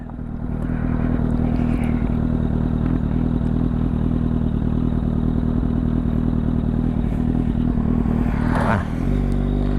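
A Kawasaki Z800 motorcycle engine drones loud and steady in second gear during a wheelie in the forest, with a constant throbbing roar and rattling clatter before the engine note briefly dips near the end.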